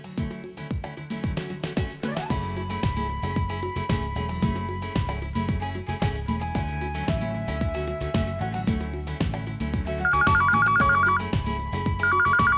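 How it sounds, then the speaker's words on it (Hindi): A phone ringtone plays from a Hindi TV family drama scene, a melodic electronic tune with repeating tones that builds into a louder looped chime near the end, with no speech over it. "ऋषि फोन आ रहा है, देखना।"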